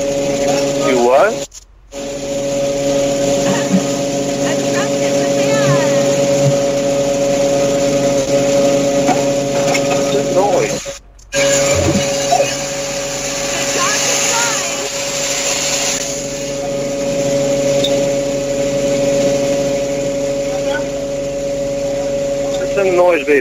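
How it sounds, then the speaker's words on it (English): A hydraulic rescue tool, the jaws of life, runs at the scene of a truck-and-van crash: a steady, loud motorized whine and hiss that continues with two brief cutoffs, and voices talking faintly underneath. "It's the jaws of life."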